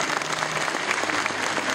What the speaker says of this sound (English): again, a round of applause for the Van der Sands